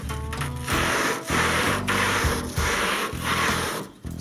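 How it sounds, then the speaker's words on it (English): Sandpaper is rubbed by hand over the body of a Ford Model A during restoration, about six steady back-and-forth strokes, each a close, loud, gritty rasp with brief gaps between. "Had to find some sandpaper."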